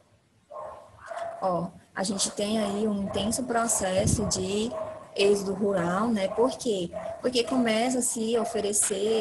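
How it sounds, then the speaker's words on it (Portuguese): Dogs bark and yip repeatedly in the background while a person talks steadily over them. "Gente, peço perdão pelos cachorros"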